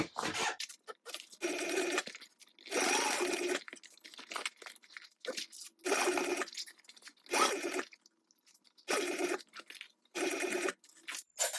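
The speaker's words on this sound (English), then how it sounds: "let's go ahead and stitch this binding down" A sewing machine stitches down fabric binding on a mini backpack in short, repeated bursts of whirring, each run a second or so long and separated by brief quiet pauses.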